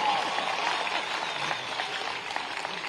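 An audience at a government event in Bhopal breaks into loud, dense applause for a female singer, a sustained wash of clapping and crowd noise lasting the full three seconds.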